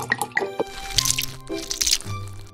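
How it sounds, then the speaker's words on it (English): Spilled coffee drips from a kitchen counter onto the floor in an irregular series of close, wet drips and squishy splats, some sharper, none under talk. "The coffee is dripping down onto the floor."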